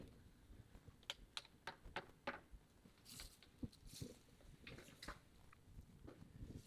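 Computer keyboard keys tapped while typing Python code, a run of close, crisp clicks in short bursts with small pauses between, fairly quiet and heard alone.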